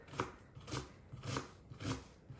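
A knife finely chopping cabbage on a board makes four soft, evenly spaced cutting strokes, close and fairly quiet.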